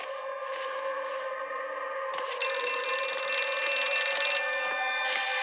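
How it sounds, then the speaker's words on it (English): An old-fashioned telephone bell rings steadily in a school office in the horror game Outlast 2, bright repeated trills running continuously over a low ambient hum, close and fairly loud with no talking. "The phone keeps ringing. Old-fashioned phone."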